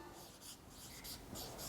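Writing on a board during a lecture on forts of Madhya Pradesh, heard as faint repeated rubbing strokes in a steady rhythm over a constant background hiss.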